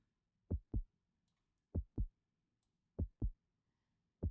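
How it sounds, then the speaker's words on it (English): A steady heartbeat thumps in low, muffled double beats, lub-dub pairs repeating at an even pace with quiet between them. "I know you don't like to hear the heartbeats"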